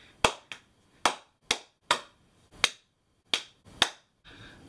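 Sharp hand claps or snaps in an uneven rhythm, about nine crisp, close, loud strikes separated by silence, with no talking.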